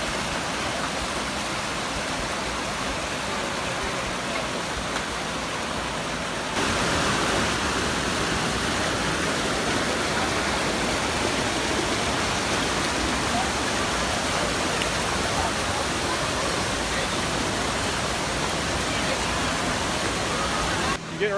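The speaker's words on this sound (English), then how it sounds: "Well, we made it to the falls." Cummins Falls waterfall in Tennessee, a loud, steady, broadband rush of falling water that grows stronger partway through and continues unbroken with no talk.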